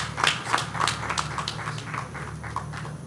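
A crowd at an aviation event applauds the Minister of Aviation's representative with steady, moderate clapping for about three seconds, set against a low hum of background noise.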